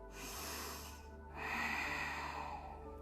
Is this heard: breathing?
yes